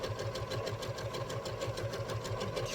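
A sewing machine stitches a quilt top, its motor humming steadily with a fast, even rhythm of needle strokes running throughout, close and fairly quiet with no talking.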